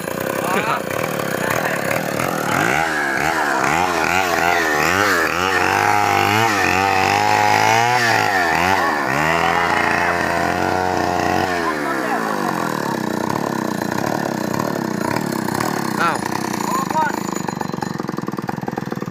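A chainsaw cuts a large yang tree for furniture wood, its engine loud and close, rising and falling in pitch as the blade bites, with voices talking over the running saw.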